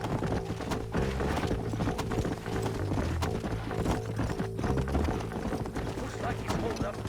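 Several horses in the western game Red Dead Redemption trot along at a steady clip-clop, their hooves a continuous rhythm beneath talk and background music.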